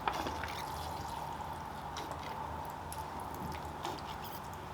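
Water pours over the soil of a freshly repotted ficus bonsai grown from seed, a faint, steady trickling splash with a few soft gurgles and drips, no talk.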